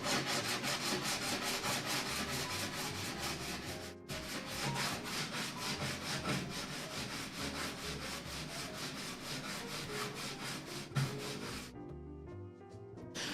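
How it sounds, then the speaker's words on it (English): Rapid rhythmic back-and-forth rasping of a sanding block on the wood of a folding tray table, close and steady, with a brief pause before the strokes resume and then taper off. "I have sanding block"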